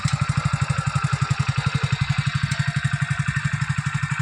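A used 2020 Hero Splendor+ motorcycle in good condition idles nearby, its single-cylinder engine putting out a steady, rapid low thumping pulse with an even rhythm and no voices.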